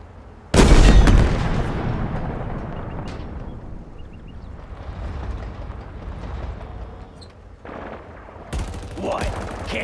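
Gunfire in the video game Halo Infinite: a loud opening burst followed by sustained rapid weapon fire and explosions, with a louder flurry of shots near the end.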